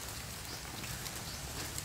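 Steady broadband hiss of rain falling on a roof, constant and even throughout, with no voices.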